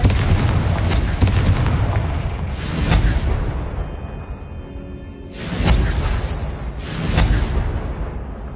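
Confringo fire spells from Hogwarts Legacy blast in three loud, booming bursts with a whooshing roar, spaced a few seconds apart, each fading into a low rumbling tail.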